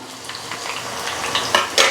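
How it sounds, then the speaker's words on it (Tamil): Chopped vegetables and tomato tipped into a pot of boiling water on a cooker for kootanchoru, giving a brief run of soft splashes and bubbling sizzle that builds to a few louder plops at the end. "இப்போ வந்து நம்ம நறுக்கி வச்சுருக்கக்கூடிய இந்த காய்கறிகளை வந்து சேர்த்துடலாம்"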